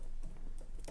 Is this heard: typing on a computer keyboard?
yes